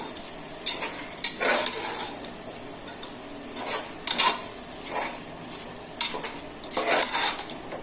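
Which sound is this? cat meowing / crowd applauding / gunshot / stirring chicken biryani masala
stirring chicken biryani masala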